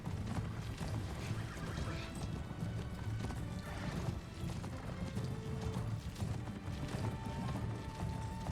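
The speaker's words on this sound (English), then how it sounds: "Robo horses!" Robot horses in Horizon Forbidden West, mechanical hoofbeats clip-clopping at a gallop with metallic whirring and occasional synthetic whinnies, sustained and fairly full amid game ambience.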